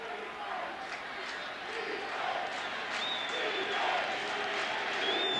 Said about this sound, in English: And you can hear the Iowa State crowd